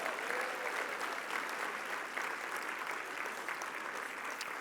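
An awards gala crowd at the 2023 USHCC National Conference applauds steadily for nearly five seconds, a dense, even wash of many hands clapping without letting up.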